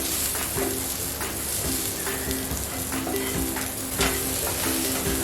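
Sweet corn sizzles and fries in a pan while being stirred, a steady, close crackling hiss broken by occasional scraping strokes, with no voices.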